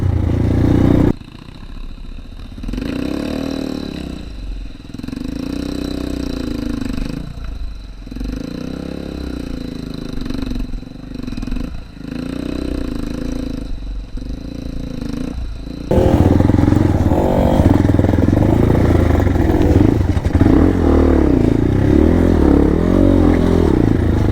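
A motorcycle engine on an off-road trail runs loudly and close, idling unevenly with clattering rhythm, then surging into a louder, rougher roar for the final stretch.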